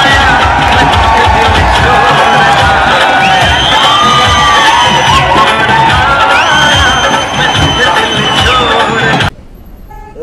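A dense roadside crowd roars and cheers at a Sunny Deol election roadshow in Chhatarpur, with honking horns, whistles and babble over traffic jam noise, loud and continuous before cutting off abruptly near the end.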